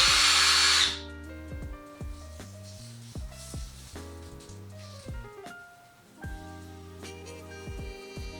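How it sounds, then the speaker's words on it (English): Power drill boring holes into drywall to mount a homemade clear dry erase board, opening with a loud burst, then a run of short, repeated drill pulses close by with no talking. "Now I'm just drilling into the drywall where I marked out those holes."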